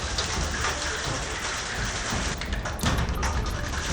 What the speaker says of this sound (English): 60-mile-per-hour winds fire hailstones at the house like an icy shooting gallery